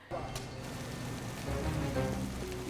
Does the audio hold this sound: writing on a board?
no